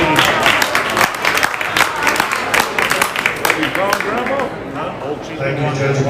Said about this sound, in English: Let's give all the kids in this class a big round of applause.